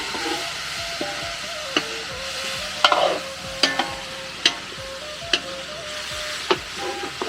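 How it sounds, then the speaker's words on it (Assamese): Pork fries in a pan with a steady sizzle, broken by sharp scrapes and clacks of stirring every second or so, close and fairly loud with no one speaking. "সেইকাৰণে ওপৰত মাংসখিনি ফ্ৰাই কৰা হয়"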